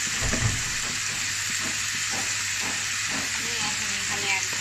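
Washed, chopped vegetables fry in a pan with garlic, five-spice and bay leaf, giving a steady, loud, close sizzle with soft stirring knocks underneath throughout, no talking.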